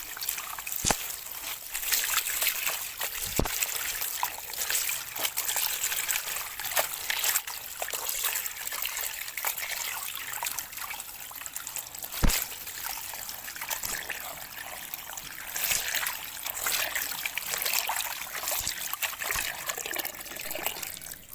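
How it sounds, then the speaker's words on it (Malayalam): Pumpkin leaves being washed by hand in water: steady trickling and sloshing with occasional splashes and clicks, fairly quiet and close, no talking. "അപ്പോൾ അതൊന്ന് നന്നായിട്ട് നമ്മൾ വെള്ളത്തിലിട്ട് ഒന്ന് കഴുകിയെടുക്കണം."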